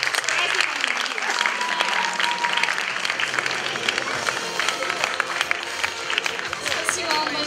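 Audience at the closing of a youth arts festival and competition, giving sustained, dense applause that carries steadily throughout the clip.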